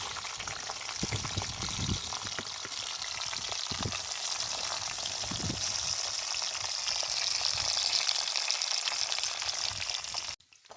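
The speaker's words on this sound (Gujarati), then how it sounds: "તુરિયાની કાટલી આપણે કાઢી દીધી, તળી લઈશું હવે।" Ridge gourd peel frying in hot oil, a steady loud sizzle and crackle running throughout without talk, cutting off abruptly near the end.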